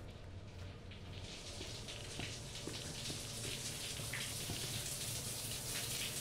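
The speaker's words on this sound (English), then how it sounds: "Nice little shower." Shower water runs steadily in the Resident Evil 2 Remake game, a soft, constant hiss of spray with faint patters, alone and fairly quiet.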